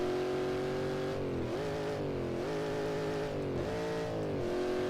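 A Shelby Cobra 427 in Assetto Corsa roars up through its gears, pitch climbing then dropping at each of three or four shifts, loud and close with a steady engine drone and no voices.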